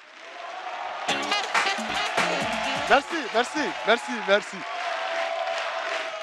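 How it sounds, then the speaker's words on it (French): A comedy stage show's audience claps and cheers in a steady, dense wash, while a man repeatedly thanks them over it, his voice rising above the applause. "Triomphe d'applaudissements, mesdames et messieurs"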